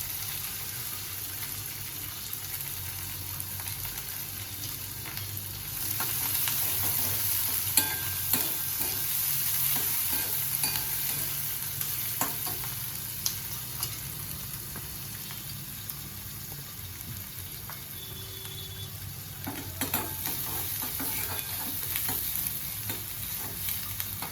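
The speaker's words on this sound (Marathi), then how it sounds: "त्याच्यासाठी तेल गरम झालेलं आहे, याच्यामध्ये कांदा कोथिंबीर घालून हे छान थोडंसं नरम करून घ्यायचं." Onion and coriander frying in hot oil in a pan, a steady, close sizzle that grows louder partway through, with occasional stirring scrapes and clicks over a long stretch.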